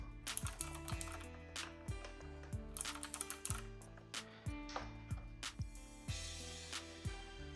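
Keys clatter in a steady run of crisp clicks and clacks as someone types on RK100 and Keychron K4 mechanical keyboards, close and fairly quiet, with no talking.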